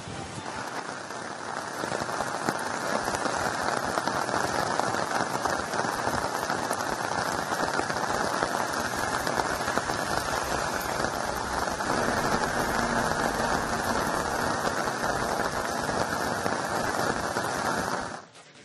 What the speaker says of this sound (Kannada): ದಕ್ಷಿಣ ಕನ್ನಡ ಜಿಲ್ಲೆಯಾದ್ಯಂತ ಭಾರಿ ಮಳೆಯಾಗ್ತಾ ಇದೆ